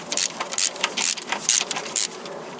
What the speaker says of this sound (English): And I open these bolts in here, that one first and then this second in here